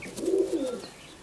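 A Madrasi Kalanka pigeon gives a single low, rolling coo up close, swelling and then fading over about a second, alone without voices.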